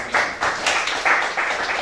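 A group at a school gathering in Central Jakarta claps in short rhythmic bursts, a brief, fairly loud patter of hands with no talking over it.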